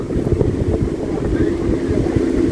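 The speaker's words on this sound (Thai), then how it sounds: "อุ้ยลมแรงมาก" Strong wind buffets the microphone outdoors on a crowded street full of cars, giving a loud, continuous low rumble with gusty surges throughout.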